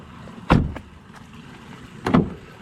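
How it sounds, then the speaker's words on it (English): A 2011 Mazda 6 car door with a newly replaced latch opens, giving a sharp latch click followed by a second clunk about a second and a half later, both close and clear against a quiet background. "Door opens up."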